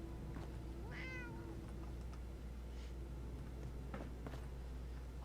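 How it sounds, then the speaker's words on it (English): A cat in the video game Fallout 4 gives one clear, drawn-out meow at a moderate distance, followed by quiet background shuffles and a sharp click at the end. "Hopefully that cat won't run out again."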